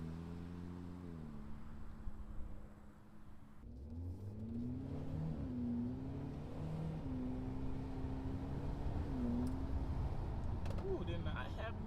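A 2024 Hyundai Elantra N Line accelerating hard on an empty road, its engine note climbing through several gear changes with a steady loud drone and wind noise, heard from inside the car.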